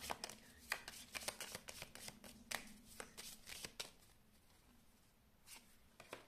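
Tarot cards being shuffled by hand, a quick run of close, crisp riffling snaps and soft slides that thins out toward the end.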